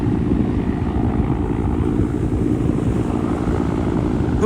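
A helicopter searches over the water at Coney Island, its low rotor drone steady and moderately loud throughout with no voices.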